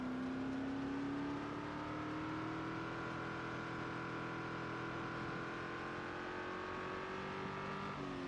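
A car driven fast in the video game Project Zomboid, a steady, loud engine drone whose pitch climbs slowly as it accelerates, running continuously the whole time with no talk over it.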